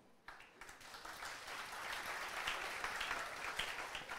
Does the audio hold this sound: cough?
no